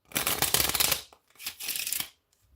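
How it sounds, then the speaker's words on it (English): Playing cards shuffled by hand in two quick riffle bursts, each a crisp fluttering rattle about a second long, close and fairly loud with a short pause between. "I can also shuffle the cards like this."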